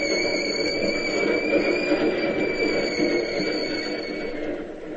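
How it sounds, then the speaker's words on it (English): Key System commuter train rolling into the terminal after crossing a bridge, a steady rumbling roar with faint high metallic whines from the wheels, continuous and fairly close, fading slightly at the end. "Sure, one of the key system trains."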